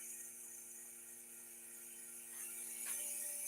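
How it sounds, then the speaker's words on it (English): A vacuum pump runs steadily to hold a vacuum chuck on a woodturning lathe, giving a continuous mechanical hum with a ticking, ratchet-like texture that grows slightly louder near the end, and no one speaks. "I now can turn on my vacuum pump."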